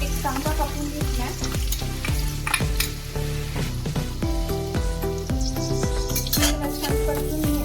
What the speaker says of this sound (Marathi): छान परतून